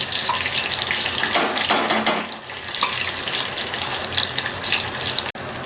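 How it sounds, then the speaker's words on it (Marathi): Onion and garlic paste frying in hot oil for misal pav, a steady close sizzle with some stirring scrapes, continuous and fairly loud. "हे बघा कांदा लसूण पेस्ट चांगले लाल होऊ द्यायचे आहे तेल सुटेपर्यंत।"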